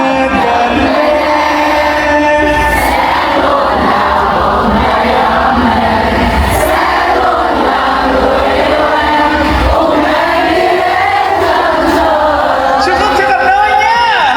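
A large crowd at a New Year countdown in Vietnam cheers and shouts continuously, with loud overlapping voices, whoops and bursts of excitement close around.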